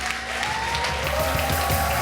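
A church youth gathering crowd applauds and cheers in sustained, loud, dense clapping that fills the hall without pause.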